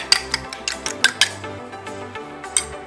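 An egg is beaten into meatball mixture in a bowl with a utensil, producing a close series of sharp clinks and taps against the bowl in an uneven rhythm over about three seconds, with no speech.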